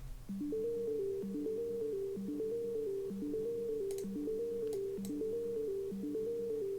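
A soft, sine-like wavetable synth bell tone without distortion plays a repeating stepped melodic pattern, steady and clean, with faint high ticks midway.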